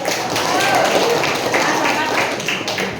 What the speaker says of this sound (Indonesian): Nah, tepuk dulu.